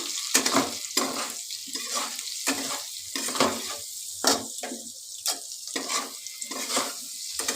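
Broccoli curry with turmeric gets stirred in a pan, a sizzling fry base broken by repeated scraping strokes of a spatula at an uneven rhythm, close up with no voices.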